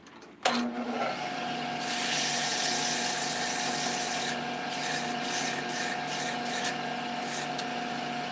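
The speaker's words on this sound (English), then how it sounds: "So then we'll sand the side." Steady abrasive rubbing of sandpaper against the side of a wooden toy on a lathe, with a constant whirring hum. A few brief scratchy bursts stand out near the end.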